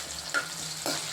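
Chopped onion with green chili, cashews and urad dal sautéing in a pan for hotel-style upma, a steady soft sizzle with a couple of brief stirring scrapes, no voices.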